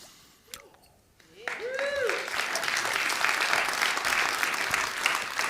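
A lecture audience applauds, broad steady clapping rising after a brief pause and holding loud and dense to the end, with a few scattered whoops at the start.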